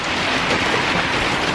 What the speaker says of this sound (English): if it keeps raining like this, the garage is gonna get flooded